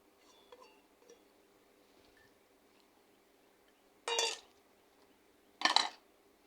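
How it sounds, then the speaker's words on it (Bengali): Masoor lentils are tipped into a cooking pot already holding green chillies and onion, giving two short, sharp rattling pours a second or so apart against an otherwise quiet kitchen. "আর এখন আমি দিয়ে দেবো ডাউলগুলা"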